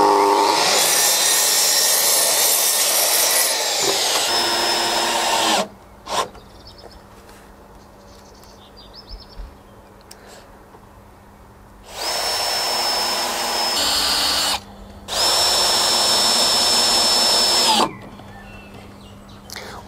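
Power saw cutting a planed wooden board to length for a wooden bicycle garage, loud bursts of whining, buzzing cutting noise, three separate passes divided by quiet gaps, no talking.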